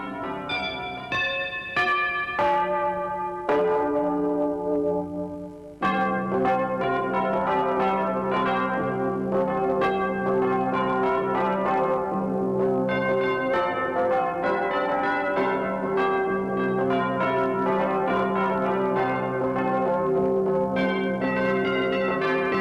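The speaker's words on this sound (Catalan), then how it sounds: "I a on sonen avui les nostres campanes?" Church bells ring continuously in overlapping peals, a dense, resonant clangor that carries on loudly without pause and without any voices.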